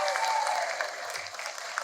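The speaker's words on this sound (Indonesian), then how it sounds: "Tepuk tangan untuk Gatra Kencana TVRI 2022." A brief burst of audience applause at the Gatra Kencana TVRI 2022 event, a dense, steady wash of clapping from a crowd, moderately loud and lasting under two seconds.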